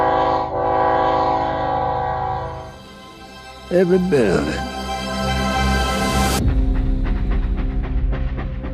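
A train rumbles past with a long horn blast in a movie scene, the horn sustained loud and close before cutting off into continued rolling rail noise; a voice speaks briefly.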